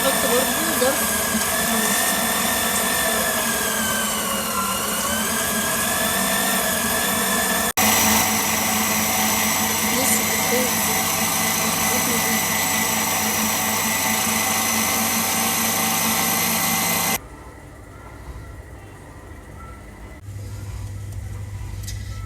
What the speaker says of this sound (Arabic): هنضرب الزبده والسكر والفانيليا كلهم مع بعض لحد ما قوامها يبقى هش كده وابيض